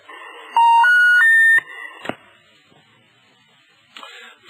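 A telephone handset left off the hook sounds a loud, steady electronic off-hook tone that steps up in pitch across a short run of pulses, then stops, leaving faint background noise and a few soft clicks.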